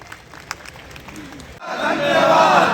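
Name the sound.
crowd applause and cheering at a rally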